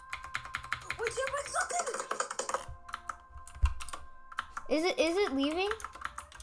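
Computer keyboard keys clatter in quick, steady tapping during a Jailbreak game session, close and crisp, mostly beneath a young person's excited talking.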